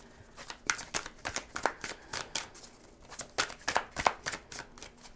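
Tarot cards are shuffled and drawn in a quiet room, a brisk run of about a dozen crisp riffling snaps and slaps in an uneven rhythm, close to the microphone, with no talking.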